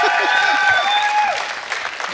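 A studio audience at a late-night talk show claps in dense, steady applause, with a voice sounding over the clapping.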